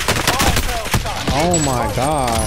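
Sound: gunfire in a video game

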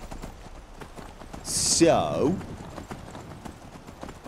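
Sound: horse hooves clip-clopping in video game Skyrim Special Edition

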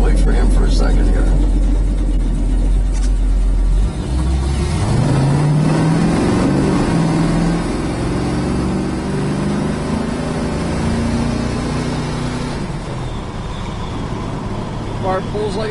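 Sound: 1968 Dodge Dart engine running and revving

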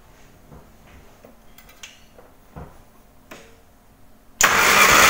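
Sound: Morris Mini Cooper engine cranking during cylinder compression test

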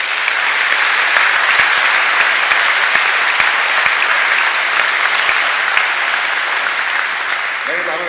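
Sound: applause from a concert audience in a hall

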